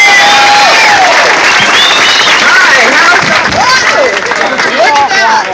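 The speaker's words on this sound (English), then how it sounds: "Let's give her a big round of applause." Loud outdoor crowd at a protest march against Monsanto claps and cheers for a speaker, with whistles and shouting voices rising over the applause.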